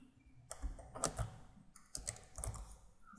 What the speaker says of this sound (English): I'll type in here